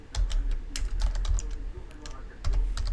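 Someone types a command into a terminal on a computer keyboard: close, crisp bursts of keystrokes with brief pauses between them.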